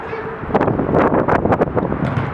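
Strong wind buffets the microphone on an outdoor football pitch during an amateur match in İzmir, a loud continuous rumble with gusty rustling bursts and no clear voices.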